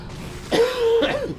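A man gives a single close, short throat-clearing cough, a rough burst followed by a second brief rasp, heard on its own over faint background.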